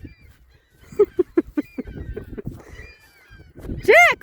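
Geese honking near a garden while a dog is urged on, a string of short rhythmic honks followed by a louder, drawn-out honk at the end, with a voice talking over them.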